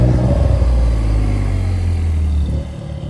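Porsche at a cars-and-coffee meet downshifting, a loud nearby engine roar with rising and falling revs and a deep rumble that eases off toward the end, no talk.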